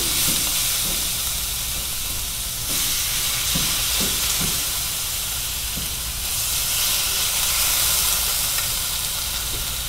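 Beef tapa sizzles and fries in avocado oil in a hot pan, a steady close hiss with occasional light clicks and stirring taps, no talking over it.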